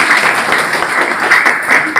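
Crowd at an office inauguration clapping loudly, a dense continuous patter of many hands close by, steady throughout.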